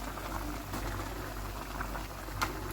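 Tomatoes and chillies simmering with meat in a pot for salt and pepper meat, a steady low bubbling and sizzle with a few soft pops, close and continuous, with no talking.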